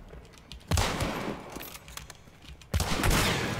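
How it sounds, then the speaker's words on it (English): Gunfire in the multiplayer shooter Hunt: Showdown: two sharp, loud bursts of shots about two seconds apart, each trailing off into echoing reverb, with quieter ambience between them. "I shot one of them."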